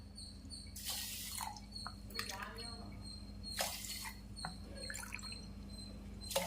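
Water is poured from a glass onto washed foxtail millet in a vessel, in a few short splashing bursts and light drips, with a voice speaking at low level in the background.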